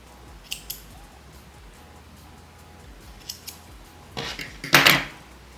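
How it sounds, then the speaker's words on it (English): Scissors snip off crochet yarn, a few small clicks and then a louder, close cutting burst near the end over a quiet background. "So I'm going to cut off the yarn"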